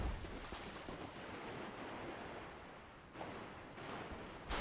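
A Dark Souls 3 character wades slowly through knee-deep water in the Road of Sacrifices, with a steady rushing, sloshing wash of water that swells and dips in short surges and has no talk over it.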